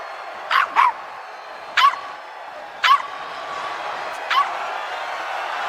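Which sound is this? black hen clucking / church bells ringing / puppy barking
puppy barking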